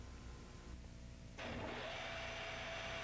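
A Davenport Model B automatic screw machine starts up, a steady mechanical whir and hum rising abruptly partway through and holding constant, close and fairly quiet with no talk.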